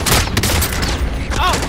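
Rapid gunfire bursts from a Crossbow/Fara video game firefight, loud and dense across a short stretch with a couple of sharper shots breaking through near the start and end.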